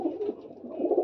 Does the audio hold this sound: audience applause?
no